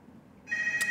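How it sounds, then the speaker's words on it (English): A hotel room telephone starts ringing partway through, a steady electronic trill that switches on suddenly and stays loud and close after a quieter stretch of room noise. "that's the hotel phone, and I don't know why it's ringing"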